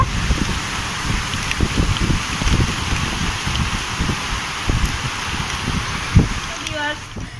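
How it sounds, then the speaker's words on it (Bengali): Heavy rain pours in a steady rushing hiss, with low buffeting gusts and occasional thumps. "আজকে অনেক বৃষ্টি হচ্ছে"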